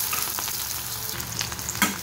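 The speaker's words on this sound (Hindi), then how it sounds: "जैसी दाल आप छोंकते हो वैसी छोंकनी है, जीरा राई सब ऐड करके" Cumin and mustard seeds sizzle and crackle in hot ghee, a steady frying hiss with a few sharper pops, close and fairly quiet.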